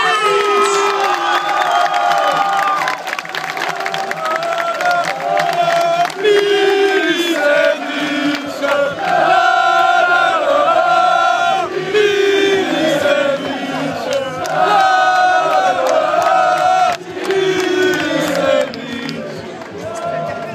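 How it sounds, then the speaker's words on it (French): Crowd at a football club open fan day cheers and shouts for a player being introduced, a loud, continuous swell of voices with whoops and chanting. "Applaudissements pour Daniel Milicevic."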